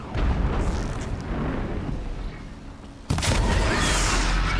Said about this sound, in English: we can still freeze him with our trusty freeze bombs